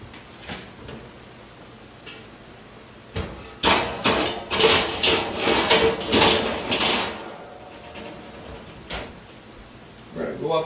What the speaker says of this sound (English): Now we're going to put it back in the oven.